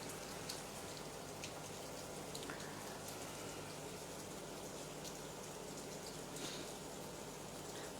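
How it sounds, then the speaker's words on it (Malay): Heavy rain falls steadily in Kuantan, a soft, continuous patter of drops at moderate distance with occasional brighter splashes, no voices over it. "Mungkin saudara boleh dengar bunyi hujan"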